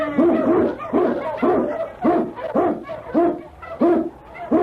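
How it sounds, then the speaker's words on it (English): Sled dog barking from an old Yukon radio drama opening, a steady run of about eight loud, evenly spaced barks with no voices over them. "King, the swiftest, strongest of Eskimo lead dogs, blazes the trail through storm and snow"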